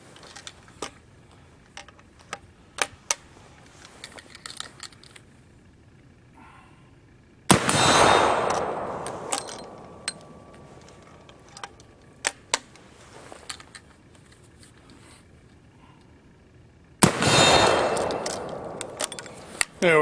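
A Trapdoor rifle with a fairly weak ejector pushes out spent cartridge cases: scattered sharp metallic clicks and tinkling clatter, broken by two louder rushing handling noises close by.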